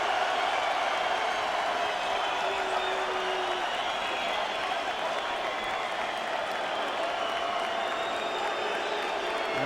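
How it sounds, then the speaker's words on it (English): A crowd at a heavyweight boxing bout, Andrew Golota vs Chris Byrd, cheers and applauds in a dense, steady roar that never lets up, with a voice faintly audible beneath it. "And getting great support from the crowd."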